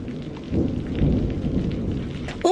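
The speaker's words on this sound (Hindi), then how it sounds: "तेज बारिश हो रही है और बिजली भी कड़क रही है।" Heavy rain pours steadily in a cartoon storm, thunder rumbling low underneath, with a sharp crack of lightning striking at the very end.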